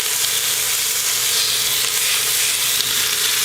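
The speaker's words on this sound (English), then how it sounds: "so that the meat can lay down on the bottom of the pan while it's searing" Beef shank sears in a hot pan during old-fashioned Southern cooking, giving a steady, loud sizzle and fry hiss that runs unbroken throughout with no voices.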